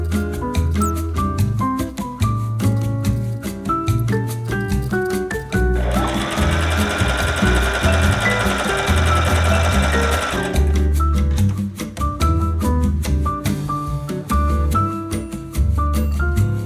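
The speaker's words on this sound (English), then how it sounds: "that creates a bit of tension when I wind the bobbin with the thread" Home sewing machine winding thread onto a bobbin while making a shirred summer dress. Rapid, loud mechanical stitching clatter gives way to a steady high motor whine for several seconds, then the chattering stitching resumes.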